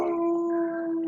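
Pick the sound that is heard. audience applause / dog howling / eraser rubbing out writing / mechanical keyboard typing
dog howling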